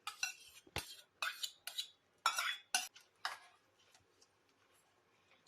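A spoon clinks and scrapes against a bowl while beetroot salad is mixed with salt, sugar and yogurt; a run of distinct close taps comes in quick bursts, then thins out to softer, scattered stirring.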